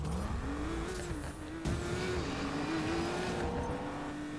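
Race cars in Need for Speed Payback, an engine note rising and holding as it revs through gears, loud and continuous with brief dips between shifts.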